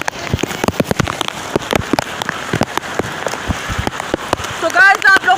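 Rain falls in Karachi, pattering and splashing sharply on nearby surfaces in dense irregular drops, with a loud burst of noise near the end.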